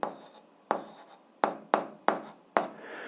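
Writing on a board during an eighth-grade algebra lesson, six separate scratchy strokes spaced unevenly over a few seconds, close and clear, with no talking.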